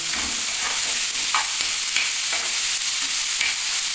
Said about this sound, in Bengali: এখানে দিয়েছি আলু কুচি আর গাজর কুচি এটা একটু তেলের মধ্যে ভালো করে নেড়ে ফেড়ে নিতে হবে